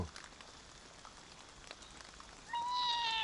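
A faint cat meow rises at the end over a steady patter of rain, distant and soft against the background hiss, in an animated cartoon.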